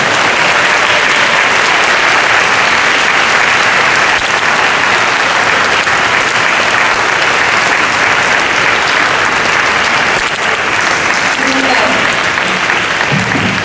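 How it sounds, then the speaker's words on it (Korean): Sustained applause from a large crowd at a Korean world mission conference, loud and steady throughout with dense clapping and no pauses. "나오실 때 여러분 박수를 계속해서 쳐주세요."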